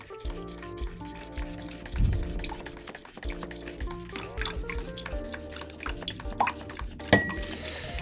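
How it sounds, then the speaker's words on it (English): Boiling water is pumped by hand through a Wacaco Picopresso portable espresso maker, with close clinks, rhythmic pumping clicks and liquid drips and trickles over several seconds. "Pump some of this boiling water through to properly heat the group in the shower screen"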